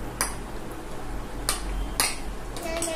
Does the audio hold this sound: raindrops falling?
no